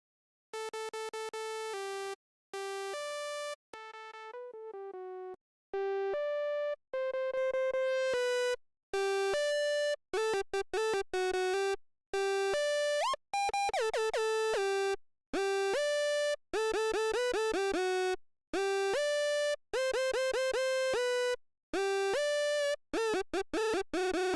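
Hardstyle synth lead being designed with a warm, full body, playing a melody of clipped, sustained notes in choppy rhythmic bursts, loud and alone with no voices.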